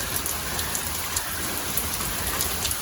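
Steady outdoor rain on a chilly morning makes a loud, dense hiss of drops hitting surfaces close by. It continues unbroken throughout, with scattered sharper drips and no talking.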